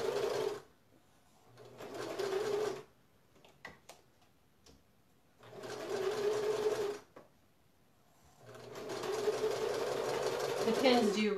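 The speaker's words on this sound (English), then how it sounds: "I'm going to start up here at this top corner, and I'm going to sew diagonally across to the other corner." A sewing machine stitches diagonally across a quilted fabric placemat in three separate runs of steady close whirring, with quiet pauses between them and a voice talking during the gaps.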